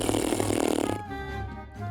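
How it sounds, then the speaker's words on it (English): Lips blown together in a wet raspberry, a loud buzzing flutter lasting about a second, then a lower, steadier rasp. No talk over it. "Can you both try blowing a raspberry with your lips?"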